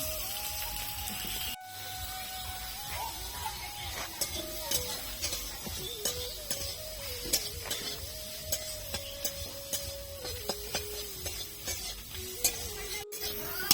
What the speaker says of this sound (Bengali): পটল পেঁয়াজগুলো ভালো করে ভেজে নিয়েছি